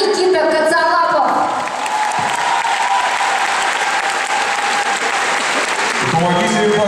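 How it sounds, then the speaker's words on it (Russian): An ice rink audience applauds the dancers Sinitsina and Katsalapov, loud and sustained throughout, with music-like tones at the start and end. "Помогите им, пожалуйста, своими аплодисментами."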